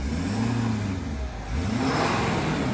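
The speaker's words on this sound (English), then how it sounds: "Engine sounds healthy." A 2016 Ford F-550 bucket boom aerial lift truck's diesel engine runs at a steady idle, with a low continuous hum and a brief dip in level partway through, heard alone at close range.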